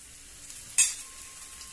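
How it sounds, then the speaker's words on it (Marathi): Ghee hits the edges of a jowar thalipeeth in a hot pan, setting off one sudden close sizzle that flares and then fades into a quieter crackle. "आता मी याला थोडंसं तूप सोडेन साईडने"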